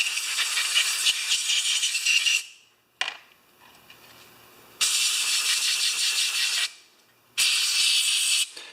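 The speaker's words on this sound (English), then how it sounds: "let's just get this cleaned up with some carburetor cleaner right now" Carburetor cleaner sprayed onto a Briggs & Stratton 3.5HP carburetor in three long, loud hissing bursts separated by brief pauses, close up with no talking.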